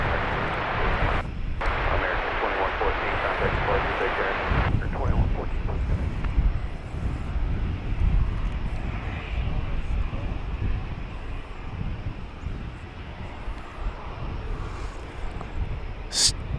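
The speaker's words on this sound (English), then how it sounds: "that was Flight 941 arriving from Monterrey in Mexico, an Airbus" An Airbus A319 landing at DFW Airport on arrival from Monterrey, Mexico, makes a steady, broad engine roar that holds at one level, with gusty south wind buffeting the microphone throughout.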